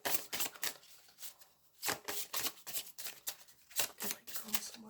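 Oracle cards being shuffled by hand for a Capricorn horoscope reading, a quick run of crisp riffling bursts close to the microphone, repeated in uneven clusters.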